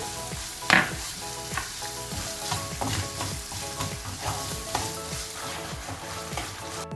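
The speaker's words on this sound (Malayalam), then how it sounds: "നമുക്കിനി ഇതിലേക്ക് പഞ്ചസാര ചേർത്ത് കൊടുക്കാം. നന്നായി മിക്സ് ചെയ്യാം." Potato halwa with sugar being stirred in a pan, a soft sizzle under rhythmic spoon scrapes about every half second, one sharper clack near the start, close and steady, without voices.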